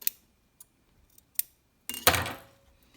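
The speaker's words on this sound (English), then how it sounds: "Cut your threads." Scissors snip sewing threads at the end of a backstitched seam, heard as a few faint, close clicks followed by one louder sharp cut with a short rustle.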